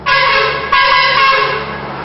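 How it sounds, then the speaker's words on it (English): Truck air horns blare loudly and close in two long sustained blasts, the second starting partway through the first and fading slowly. "wasn't it nice of him to sound his air horns in front of the camera"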